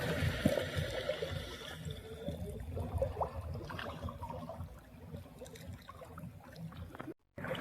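Current of the Padma river flowing past a fishing spot, a soft, continuous watery rush with faint gurgles and low rumble, steady throughout and heard from close by.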